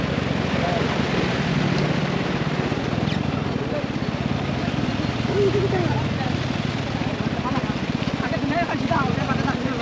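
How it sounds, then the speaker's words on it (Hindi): Floodwater rushing over a road after two days of rain, a continuous broad roar with wind buffeting the microphone, while someone talks over it. "रास्ते का एक साइड तो बिल्कुल पानी के नीचे है और दूसरे साइड में भी रास्ते के ऊपर से पानी जा रहा है"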